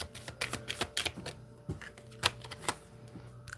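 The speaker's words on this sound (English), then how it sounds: "Shuffling for Aquarius." Quick, dry riffling clicks and soft slaps of tarot cards being shuffled, in short irregular bursts close by, with quiet room tone between.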